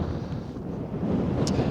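Steady wind rushes and buffets across the microphone, a continuous low roar with no voices.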